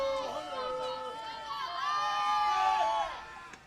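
Voices of a crowd of Williamsport fans at a Babe Ruth World Series youth baseball game, with shouts and cheers that swell and stay loud for a few seconds before easing off.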